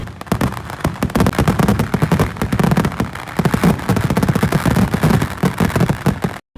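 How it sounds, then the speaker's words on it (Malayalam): Morning fireworks at a Kerala temple festival erupt in a dense, loud barrage of rapid bangs and crackles, a continuous volley of explosions that stops abruptly at the end. "ഇനി നിങ്ങൾ കാണാൻ പോലെ രാവിലത്തെ വെടിക്കെട്ടിൻ്റെ വിഷ്വലാണ്."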